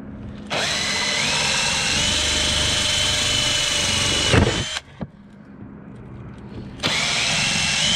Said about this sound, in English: We're gonna put a couple holes in for the screws.